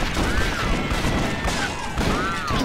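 Rapid bursts of gunfire from the Western shooter game Red Dead Revolver, loud and dense, with overlapping shots and clatter filling the clip continuously.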